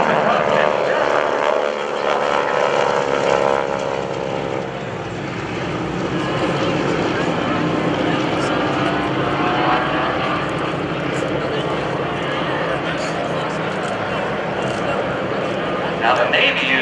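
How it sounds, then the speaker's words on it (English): A North American T-6 Texan propeller plane flies at the 2015 Wheels and Wings Airshow, its loud, steady engine drone rising and falling throughout, with an announcer talking over it. "when you hear the T-6 bark again, it's not so much the exhaust, that big old exhaust pipe."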